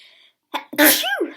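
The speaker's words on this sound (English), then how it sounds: "Sorry, just like sneezing." A single close, loud sneeze: a brief sharp intake, then an explosive burst that trails off into a short voiced tail, alone without other talk.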